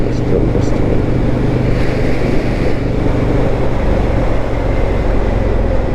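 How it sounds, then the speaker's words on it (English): A motorcycle ridden out west on a cold Saturday morning produces a loud, unbroken rush of wind over a low engine drone that holds steady throughout. "Oh god, I love riding a bike."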